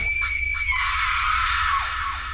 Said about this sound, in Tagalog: At sumunod ay sigaw.